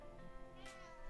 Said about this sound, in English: If you can hear that, that's a cat.